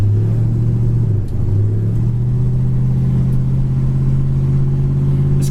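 A 1966 Chevy Impala Super Sport cruising with its engine running, a loud, steady low rumble that holds an even pitch, with one brief dip near the start, close and continuous with no talk.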